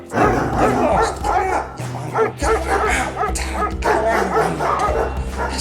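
Dogs bark and yip aggressively at a cyclist in the dark, several loud close barks in quick bursts with some whimpering between them.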